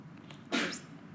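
A single sneeze in a geometry classroom, short and sharp, moderately close, standing out over a quiet room background.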